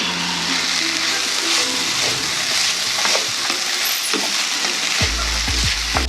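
Poblano and sweet peppers sizzle in a pan: a steady, loud frying hiss with stirring scrapes and a few low thumps near the end.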